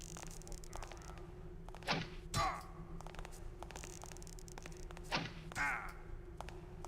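Broadhead arrows loosed in Thief, two distinct sharp thunks with metallic ringing about three seconds apart, each followed by a brief clattering impact, over a quiet steady ambient hum.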